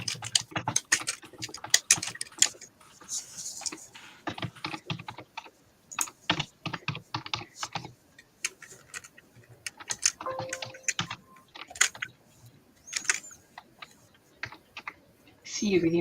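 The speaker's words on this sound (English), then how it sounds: "See, you can even hear the period sounds of a typewriter." Rapid, irregular clacks and dings of a period typewriter sound from a video game in short bursts separated by pauses, moderately close, with occasional faint speech.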